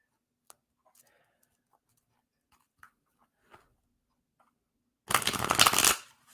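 Playing cards are shuffled close by in a single dense, riffling burst lasting about a second, after a stretch of near silence with a few faint clicks.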